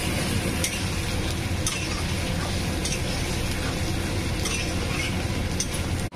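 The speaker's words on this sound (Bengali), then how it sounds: "এখন ভালো মতন আমি বেগুনের সাথে ভাজা করব" Spice paste of cumin, green chilli, ginger and turmeric fries with brinjal in a pan, a dense continuous sizzle with occasional clinks and stirring scrapes, close and loud throughout.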